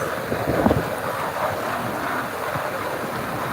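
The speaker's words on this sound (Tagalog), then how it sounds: "Ang lakas ng hangin." Strong wind buffets the microphone with a constant low rumble and roar, gusting slightly throughout.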